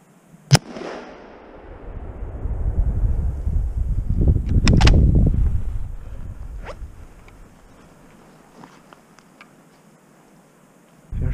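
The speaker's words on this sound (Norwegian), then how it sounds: "Jeg skjøt på byggoksen." A loud rifle shot at a moose during a hunt cracks out near the start, followed by a long rumbling rush and rustle that swells then fades, with scattered faint ticks and another bang at the very end.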